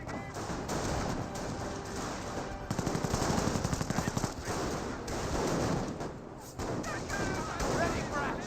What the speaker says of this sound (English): Jeep engaging at close range against the mortar half-track, getting some good damage there.